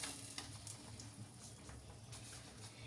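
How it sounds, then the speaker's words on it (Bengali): Dried red chillies and bay leaf sizzling in hot oil for tempering, a faint steady frying crackle with scattered soft pops, quiet and continuous. "আমি এবারে ফোড়ন দেব। 2টো শুকনো লঙ্কা, তেজপাতা"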